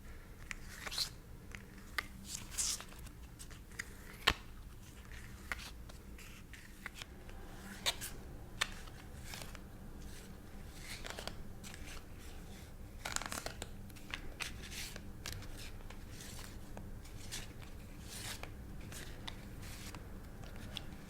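Soft, continuous riffling and papery flicks of tarot cards being shuffled up close, with occasional sharper snaps, repeated steadily over a long stretch.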